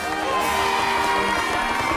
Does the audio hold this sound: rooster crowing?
no